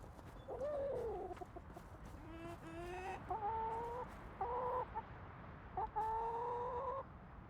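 Chickens in the medieval online game Gloria Victis cluck and squawk in a string of short, quiet calls, some drawn out like crowing, over a soft ambient background with no talking.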